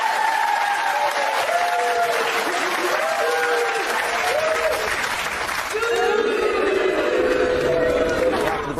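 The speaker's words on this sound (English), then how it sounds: "Round of applause for this man." Studio audience applause fills a British daytime talk show set, a steady crowd roar running the whole time beneath a voice and other talk.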